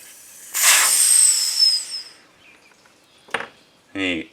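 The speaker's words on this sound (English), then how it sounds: "we just need to let the air out of it" Air hisses sharply out of a flat lawn mower tire as a valve insert tool opens the valve, one loud burst lasting about a second and a half, followed by faint clicks and a brief voice.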